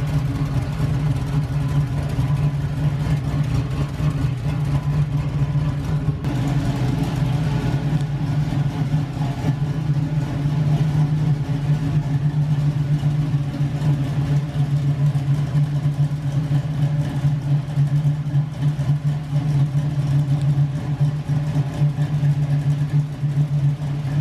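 An LS-swapped Camaro with a lumpy cam runs steadily while driving, its loud, continuous low engine rumble holding constant throughout with no talk.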